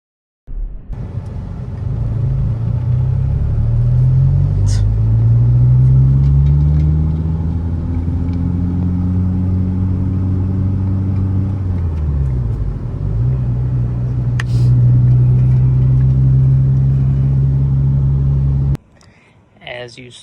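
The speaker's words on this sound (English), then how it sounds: "we went and drove the car around for a little bit" A Honda Civic EP3 driving, its engine droning loudly and steadily with rising and falling revs through gear changes, heard from inside the car, ending abruptly.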